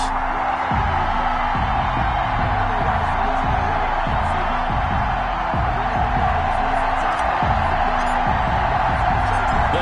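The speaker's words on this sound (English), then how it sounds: "This crowd is ready as their guys get set to match up between the Dallas Cowboys and the Philadelphia Eagles" Steady stadium crowd roar from an EA Sports NFL video game before a Dallas Cowboys versus Philadelphia Eagles matchup, a loud, continuous wash of cheering and murmur with faint rhythmic low thumps beneath.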